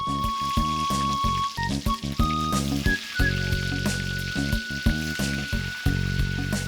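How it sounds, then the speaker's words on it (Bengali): Thread-tied pointed gourds stuffed with dried fish sizzle loudly in hot oil in a kadai, a dense continuous crackle with steady hissing and occasional sharper pops. "গরম তেলে ভাজা হচ্ছে সুতাবন্দি পটল"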